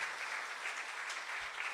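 An audience at a motivational talk applauds steadily, the clapping soft and somewhat distant, continuing evenly through the short moment.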